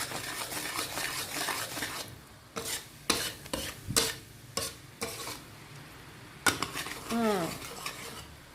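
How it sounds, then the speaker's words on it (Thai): A spoon stirs and scrapes Thai shrimp chili paste, nam prik narok, in a pan, a run of sharp, close metallic scrapes and clanks in uneven strokes over a low sizzle, with brief pauses between bursts. "แล้วก็คนทุกอย่างเข้ากันดีค่ะ"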